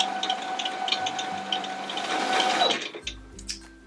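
A Brother CS6000i sewing machine winds a bobbin with a steady, close whirring hum that runs alone for about three seconds, then slows and cuts off, leaving a low mechanical tail.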